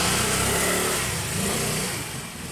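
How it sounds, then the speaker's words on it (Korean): A motorcycle engine revs and approaches, fairly loud and close, as it pulls into a roadside motorcycle parking area in Bali, the drone steady then easing slightly toward the end. "오토바이가 들어와"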